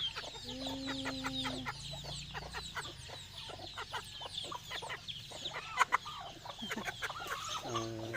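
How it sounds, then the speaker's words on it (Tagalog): Chickens cluck close by in a steady, busy stream in a rural Davao Occidental setting, mixed with sharp higher chirps and a few louder squawks. "Ganyan yung mga manok dito sa probinsya."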